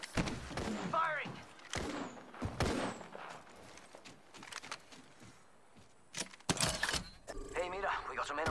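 Gunfire in the battle royale game Apex Legends: several sharp bursts of shots spread through the clip, loud and close, with spoken callouts and game voices between and over them.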